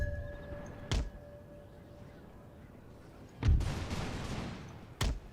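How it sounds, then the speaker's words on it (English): Musket volleys in Imperial Splendour, a Napoleonic-era battle game: three sharp, loud volley cracks spaced a couple of seconds apart, the middle one a longer rolling burst, over low battlefield rumble. "close-up volley on my grenadiers"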